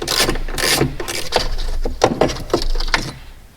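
A long socket extension works loose a 10mm bolt on a Dodge Challenger Hellcat battery bracket in a garage, giving a string of short metallic clicks and rubbing ratchet-like strokes at close range, roughly evenly spaced, with no talk.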